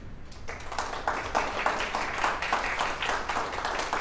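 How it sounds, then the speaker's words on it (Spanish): Applause from a small audience at a talk about autism, a steady patter of claps in the room lasting a few seconds with no speech over it. "Muy bien, un aplauso, Manuel."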